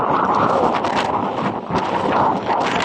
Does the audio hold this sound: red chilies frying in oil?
no